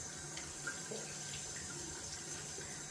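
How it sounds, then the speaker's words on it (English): Running hot tap water rinses a hand and a shaving soap tub, a steady faint splashing rush of water without pause. "gonna rinse off my hand and the actual soap tub, so it's nice and clean."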